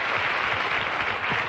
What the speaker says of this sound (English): that's worth a little applause, isn't it?